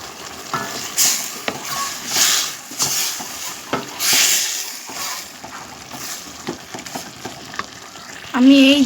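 Pieces of carp seasoned with turmeric and salt sizzle and hiss in hot oil in a pan, with surges of frying as they are stirred and moved, and a brief clank of cookware at the end.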